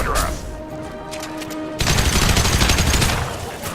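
Sustained gunfire in the Mass Effect 2 video game, a steady volley that grows louder and denser partway through, with faint game voices underneath.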